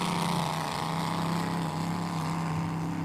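The 33 Miss Lucas Oil unlimited hydroplane racing boat, Lupton Motorsports, at a hydroplane race on the river, a steady loud roaring engine drone held without a break, heard from a distance with wind.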